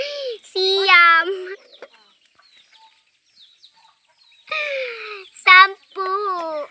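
Backyard hens in a coop cluck and squawk in two loud bursts with a quiet gap between, close to the listener, while egg collecting goes on.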